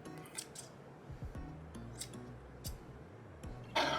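Scissors trim a yarn pom-pom for a clown costume, making several soft, close snips and rustles of yarn, with a louder brush at the end.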